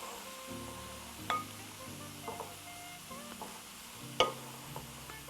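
Turkey stuffing mixture stirred in a pan, a soft steady sizzle with a few sharp scrapes and clinks of the spoon against the pan at irregular moments, close and fairly quiet.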